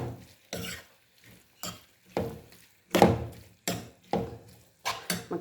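Chicken masala with tomato, coriander and onion leaf being stirred in a pan, about nine separate rhythmic scraping strokes with short pauses between them, close and moderately loud.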